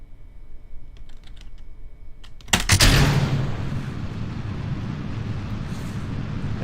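Rocket launch in Kerbal Space Program, the engine igniting with a sudden loud burst that settles into a steady roaring rumble, preceded by a few faint clicks.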